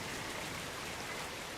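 A small waterfall in the Farming Simulator 22 Azura map flows steadily with a soft, even rush of water, constant throughout without breaks or voices.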